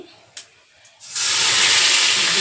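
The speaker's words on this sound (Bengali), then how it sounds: "তেলের উপরে মশলাটা দিয়ে দিলাম হ্যাঁ। জিরে আর আদা বাটা" Cumin and ginger paste hits hot oil while an ash gourd dish with grated coconut is being cooked. A couple of faint clinks come first, then an abrupt, loud, steady hissing sizzle that carries on close by.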